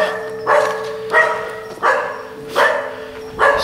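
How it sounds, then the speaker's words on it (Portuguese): A dog barks repeatedly outside a building in a steady rhythm of five loud, close barks about a second apart, with no talking over them. "O cachorro tá latindo muito pra cá"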